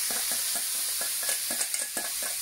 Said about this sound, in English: This pan is warm. Asparagus is going to go back in there.